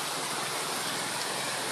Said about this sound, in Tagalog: Sobrang lakas ng ulan dito sa amin guys.